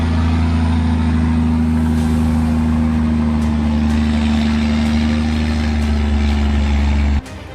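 An International Paystar 5000 logging truck with a Cummins L10 turbocharged engine labors on a narrow cliffside mountain road, its loud, steady low diesel drone holding without pause until a sudden drop near the very end.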